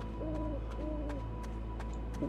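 Owls hooting in the forest video game Passing Pineview Forest, a few soft paired hoots repeating at a steady pace over a constant low ambient hum, moderately near.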